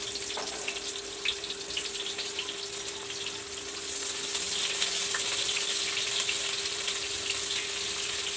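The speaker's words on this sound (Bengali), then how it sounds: "পেঁয়াজটা একটু ভেজে নেব লাল লাল করে" Chopped onion frying in a pan, a steady close sizzle with faint crackling pops that runs unbroken and grows slightly louder partway through, with no talking.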